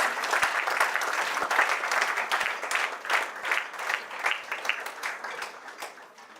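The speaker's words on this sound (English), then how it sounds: "Let's clap, please." An audience at a national climate dialogue event applauds a representative, dense steady clapping from many hands in a hall, close and lively with a few sharper individual claps.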